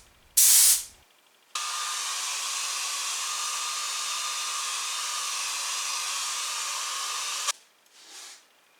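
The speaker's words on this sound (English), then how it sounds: "the colour is applied and again dried with a hairdryer" A hairdryer runs steadily for about six seconds, drying fresh paint on a pinball cabinet in a workshop. The airflow is a broad, even hiss, preceded by a brief sharp burst and followed by a short fading whoosh.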